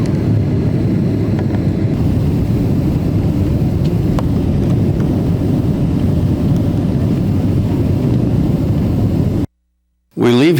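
Concorde jet on final approach to Heathrow runway 09 left over Windsor, a loud steady low roar of engines that holds throughout before cutting out abruptly near the end.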